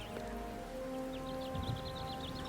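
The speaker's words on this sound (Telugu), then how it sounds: "ఆ రాత్రంతా భోలీ వానలో వణుకుతూ గడిపింది." Steady rain patters continuously, with a soft, even wash of drops and a few faint high chirps in the background.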